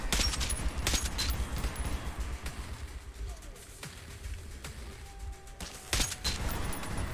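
Gunfire in the Metro 2033 Redux video game: scattered sharp shots crack out irregularly over a dim rumbling background, with a louder cluster at the start and another burst near the end, fairly quiet overall.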